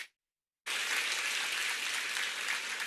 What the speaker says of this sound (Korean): 머리와 마음을 일깨워주는 강의를 해주신 이성현 박사님께 큰 박수 부탁드립니다